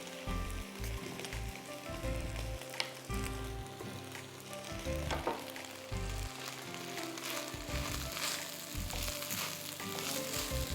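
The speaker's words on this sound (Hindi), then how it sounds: "Keep roasting the rice like this, sauteing it in fact." Rice for a sweet pulao roasting and sautéing in a hot pan, making a continuous crackling sizzle with occasional stirring scrapes and low thumps, steady and close throughout.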